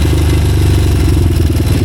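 A 1986 Honda XR200R dirt bike engine idles close by, a loud, steady rapid putter with a rough, even pulse throughout.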